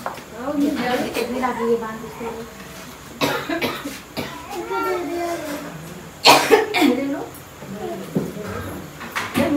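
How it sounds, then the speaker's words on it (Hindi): A child coughs several times in sharp bursts, with a harder fit of coughing later, mixed with nearby speech and household noise. "बच्ची को खांसी आ रही है बहुत जोर।"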